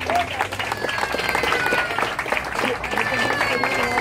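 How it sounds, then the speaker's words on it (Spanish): Applause from a church congregation during a Christian service, a dense steady clapping wash with crowd noise and cheering voices mixed in throughout. "Denle un aplauso a Cristo fuerte."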